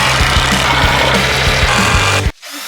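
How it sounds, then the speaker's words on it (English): A power drill runs steadily during a narrowboat bilge build, a loud, close grinding whir with regular rhythmic knocks that stops abruptly near the end, with no voices. "I'm going to crack on with the old drilly willy"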